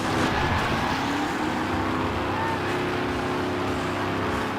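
Monster truck engines in the PlayStation 3 game Monster Jam Path of Destruction, a loud, steady roaring drone of revving motors with no pauses.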